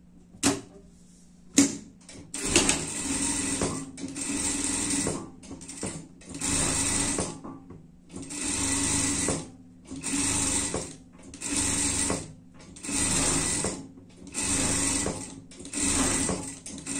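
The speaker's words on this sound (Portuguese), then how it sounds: "Passar uma costura aqui por tudo." A sewing machine stitches a fabric pig costume for a pet, running in repeated loud bursts of rapid mechanical whirring separated by short pauses, with no talking.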